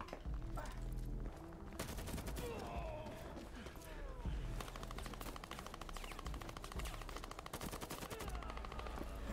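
Video game demo gunfire crackles in repeated rapid bursts like automatic weapons, fairly quiet overall, with a voice talking over parts of it.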